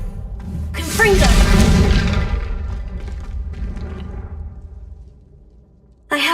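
A Confringo spell explosion in the Hogwarts Legacy video game, a loud low boom with a long rumbling decay lasting several seconds before a fresh impact at the very end, with no talk over it.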